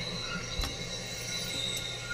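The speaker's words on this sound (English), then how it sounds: "you can hear the train." A passing train with faint metallic wheel squeal over a steady rumble, heard from a distance with no voices.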